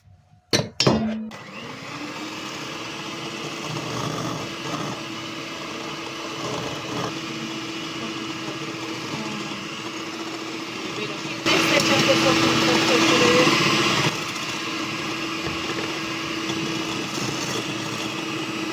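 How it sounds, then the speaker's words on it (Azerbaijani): An electric mixer whipping meringue from sugar and lemon juice whirs steadily after a few clicks at the start, its motor hum growing louder and higher for a few seconds midway. "İndi çalırıq, hardasa 7-8 dəqiqə tam qatlaşana kimi çalırıq."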